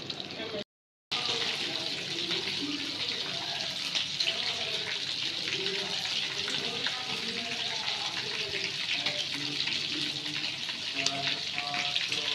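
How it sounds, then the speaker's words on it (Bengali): Chicken coated in flour fries in a pan of hot oil, a steady, dense sizzle that carries on without a break after a brief cut near the start. "ওই তো ভেজে নিচ্ছি।"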